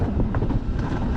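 Heavy wind buffets the microphone during a ride down the Hasenhorn alpine coaster in Todtnau. The low, loud rumble is constant and masks everything else, and no voices come through.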